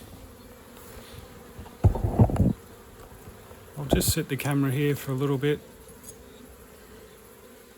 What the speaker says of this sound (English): it's just to illustrate how many bees were in the air and watch them come back into the new hive.